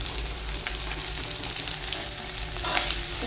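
Onion frying with garlic and ginger in a pan for a mixed vegetable curry, a steady dense sizzle with soft stirring scrapes running throughout, close and fairly loud, no voices.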